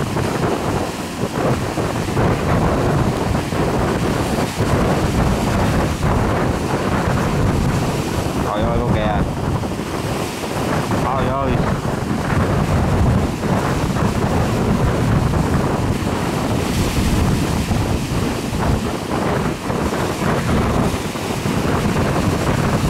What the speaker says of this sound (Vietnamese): Bữa nay gió dữ lắm luôn.